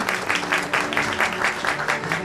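Applause from an audience at a certificate ceremony for women CNC operators in Konak, a dense, rhythmic burst of clapping at close range, steady and energetic throughout its short span.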